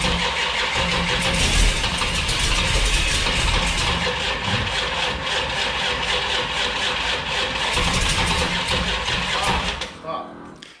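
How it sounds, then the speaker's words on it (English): Starter cranking a carbureted small block Mopar engine, a long steady rhythmic churning close by with voices talking over it, cutting off abruptly near the end. "You can't crank the starter that long."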